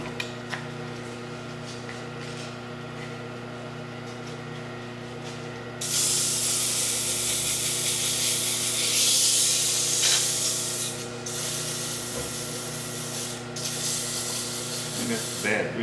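Sandpaper rubbed against a wood-turned finial spinning on a lathe, a steady broadband rasping hiss that swells louder midway over the constant hum of the running lathe, with no talking.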